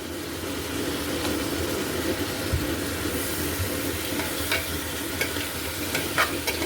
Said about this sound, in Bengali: মাংসটা তেল পেঁয়াজ এবং গোলমরিচের গুঁড়ো সব কিছুর সাথে কিন্তু ভালো মতো নেড়ে চেড়ে ভালো করে হয় নিতে হবে